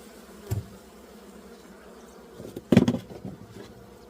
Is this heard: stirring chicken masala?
no